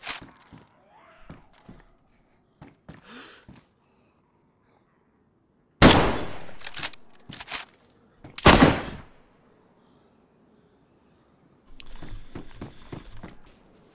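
KAR-98K bolt-action rifle in DayZ: a few loud, sharp shots, each ringing out briefly, spaced by quieter gaps with faint clicks and scattered distant noise, and no speech.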